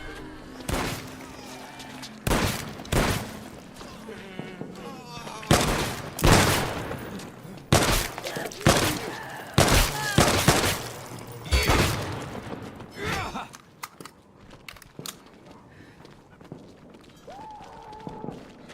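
A rifle fires repeatedly in an indie video game: loud, sharp shots in an irregular series spread across the stretch, with someone talking between bursts.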